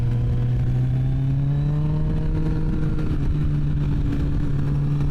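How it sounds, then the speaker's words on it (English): Triumph Tiger 660 Sport motorcycle engine braking in second gear, a steady droning engine note with a slowly sliding pitch heard up close over wind noise, continuous and loud. "that bike's got good engine braking"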